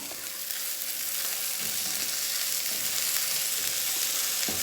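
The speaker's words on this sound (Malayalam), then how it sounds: "തക്കാളിയും കൂടി ചേർത്തിട്ട് നന്നായിട്ടൊന്ന് വഴറ്റി യോജിപ്പിക്കാം" Tomatoes sizzle in a hot pan while being sautéed for a Kerala clam roast, making a steady, loud frying hiss. Soft stirring scrapes and clacks come through at intervals, and nobody speaks.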